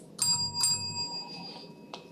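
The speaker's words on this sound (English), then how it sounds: "At the 7th minute, the bell will ring twice." A bright timing bell at a debate competition rings twice in quick succession with a lingering metallic ring, followed by a fainter third tap near the end.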